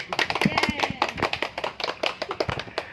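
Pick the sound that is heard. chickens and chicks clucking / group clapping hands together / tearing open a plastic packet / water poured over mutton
group clapping hands together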